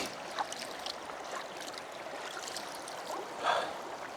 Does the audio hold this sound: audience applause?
no